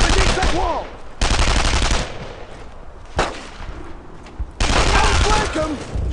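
Bursts of WWII-era machine-gun and rifle fire in the Brothers in Arms war game, loud rapid volleys broken by short pauses, with shouted voices mixed in.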